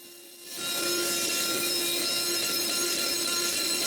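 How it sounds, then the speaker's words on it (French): A CNC router with a new spindle and large bit starts cutting a big pocket into a straight 2x8 wood board, rising quickly to a steady, loud, high whine and rough cutting noise that stays constant. "je le visse sur ma CNC et je coupe une grosse poche"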